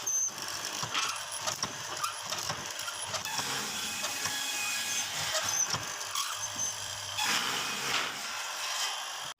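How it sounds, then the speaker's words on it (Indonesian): A heavy wood mortising machine running steadily in a timber workshop, with a continuous mechanical whir, occasional squeals and surges as it cuts into the wood, fairly close and without speech. "Pada saat menggunakan mesin tatah bobok, dilakukan tenaga yang ekstra untuk menarik tuasnya dikarenakan mesin yang berat."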